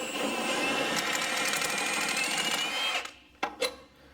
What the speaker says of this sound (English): take your gun and socket and put it in reverse through the other side and it should come out